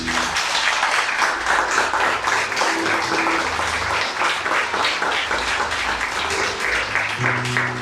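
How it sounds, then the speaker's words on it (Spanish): A church congregation breaks into loud, sustained applause, a dense, even wash of many hands clapping together for several seconds with no voices over it. "¿Qué le parece si le da un fuerte aplauso a Dios?"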